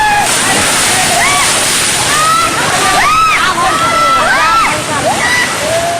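Children splash and play in deep floodwater in a flooded village in Bihar, with loud, constant sloshing and splashing mixed with shouting voices.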